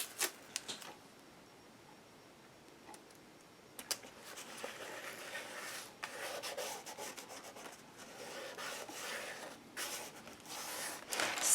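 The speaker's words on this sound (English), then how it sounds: "I'm going to lay a piece of tape down that center." Tape is rubbed and pressed down onto corrugated cardboard, producing soft, intermittent scratchy friction strokes that start sparse and then become denser, with some sharper rasping bursts close to the microphone.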